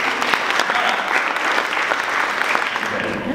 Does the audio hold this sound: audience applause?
yes